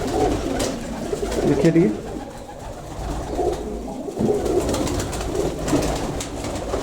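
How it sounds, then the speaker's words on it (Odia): Pet pigeons in a home loft: repeated soft, throaty coos in several bursts, close by, with a person speaking over and between them. "ଛୋଟ ଛୋଟ ଛୁଆ ବହୁତ ପାରା ରଖିଛନ୍ତି।"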